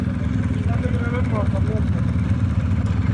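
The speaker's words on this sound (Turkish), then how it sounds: "Önce motosikletimizi park edelim." A motorcycle engine idles with a steady low rumble while the bike is parked at a motorcycle festival in Arsuz, Hatay, under a loud, constant drone with someone talking over it.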